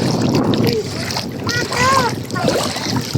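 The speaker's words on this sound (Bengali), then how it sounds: "এই যে পানির শব্দ ভালো লাগে না" Water at Tandah Lake in the Abha–Khamis Mushait area of Saudi Arabia gives a continuous rushing and splashing, with light wind noise and brief voices rising over it midway.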